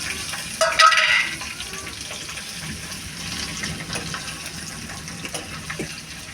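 Mustard seeds, cumin, ginger and green chilies fry in hot oil, giving a steady close sizzle with a brief louder crackling burst near the start.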